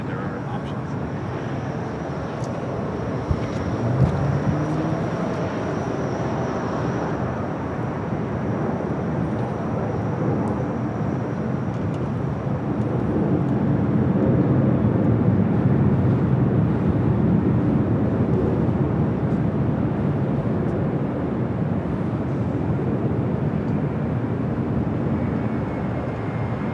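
An airliner taking off from Los Angeles International Airport, a broad steady engine roar that swells toward the middle and holds loud throughout, with faint background voices underneath.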